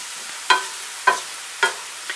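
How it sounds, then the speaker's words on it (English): Shirataki noodles crackle frying in a hot pan with a soft sizzle, punctuated by four sharp scraping stirs at roughly half-second intervals. "just keep frying."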